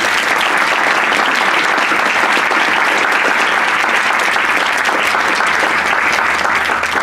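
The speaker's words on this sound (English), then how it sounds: "a final round of applause for our three great speakers" Sustained, dense applause from an audience at a Chicago networking event for three speakers, loud and even from start to finish.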